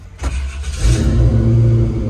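A car engine on a dyno fires back up: a brief cranking click, then it catches and settles into a loud, steady rumbling idle close by, with no talk.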